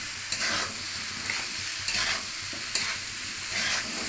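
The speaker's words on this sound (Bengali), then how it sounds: "আমি একটু ভাজে নেব।" Mixed vegetables frying in a pan for khichuri, a steady close sizzle with periodic scraping bursts from stirring every second or so; no voices.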